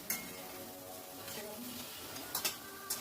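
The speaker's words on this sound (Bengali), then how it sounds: "অনবরত নেড়ে নেড়ে ডিমটাকে খুব ভালো করে ভেজে নিতে হবে" Egg is stirred and fried in a pan with okra over medium-high gas, a quiet sizzle punctuated by several close clinks and scrapes of a spatula against the pan.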